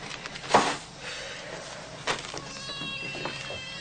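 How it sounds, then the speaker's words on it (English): Cats meow in short calls, a louder cry near the start and another midway, with faint clatter in a quiet indoor room and no one talking. "Cats."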